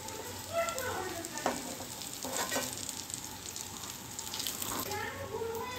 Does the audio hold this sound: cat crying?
no